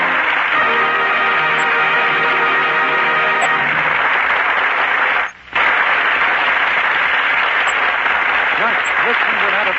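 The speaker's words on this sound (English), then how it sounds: "Listen to that applause from the audience here in the Gulf Screen Guild Theater." A studio audience at the Gulf Screen Guild Theater radio broadcast bursts into loud, sustained applause. The applause starts under the tail of a dialogue scene, cuts out for a moment midway, then resumes as dense, steady clapping.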